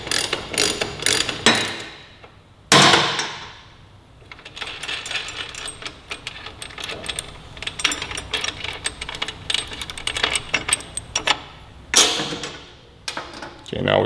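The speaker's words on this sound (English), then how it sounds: "We'll get this axle nut loosened up and off." A half-inch ratchet works a 17 mm axle nut loose on a 2018-2023 Kawasaki Ninja 400, with rapid clicking pawl bursts and metallic clanks between pauses.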